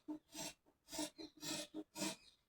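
Scissors cutting white cloth for a school uniform top, marked along a ruled line: five close rasping snips in an even rhythm, each a short burst, with no talking.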